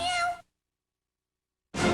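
Cat meows in a 1994 Meow Mix cat food TV commercial: a loud, close meow with a clear pitched tone, then a gap of silence, then a second loud meow cut off at the end.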